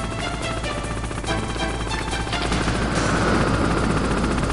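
Gunfire from Liquid Snake in the Metal Gear Solid video game, a dense continuous clatter of game weapon fire with a steady rotor-like roar underneath, loud and sustained throughout.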